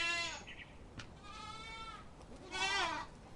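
Young goats bleat several times, high wavering cries overlapping against steady outdoor background noise.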